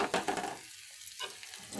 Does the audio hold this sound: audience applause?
no